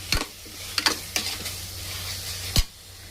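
Mint and green chillies being stirred and sautéed in a pan for mushroom biryani: a few sharp scrapes of a spoon against the pan over a faint, steady sizzle and a low hum, no talking.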